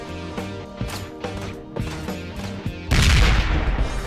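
Gunfire in the game Ride To Hell: Retribution, a run of sharp shots over a steady musical score that ends in a loud, sustained burst of fire or a crash.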